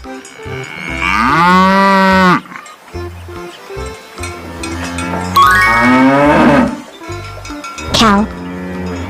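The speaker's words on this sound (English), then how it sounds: "cow," A cartoon cow gives loud, drawn-out moos, several in a row with short gaps, alongside the simple tones of a children's animal-sounds animation.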